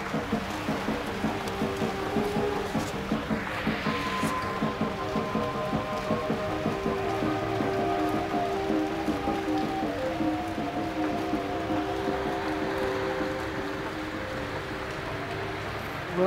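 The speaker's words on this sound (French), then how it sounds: "Ça me rend heureux la pluie comme ça." Steady rain in Paris patters on a surface with a broad hiss, joined by low tonal hum and music-like lines beneath; continuous and moderately loud throughout.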